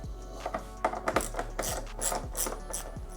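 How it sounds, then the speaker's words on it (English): Motorcycle windshield bolts come out on a 2024 Road Glide with a T25 driver, producing a run of short ratcheting clicks and light metallic ticks in close, quiet bursts, with no talking. "Remove the 4 windshield bolts, T25."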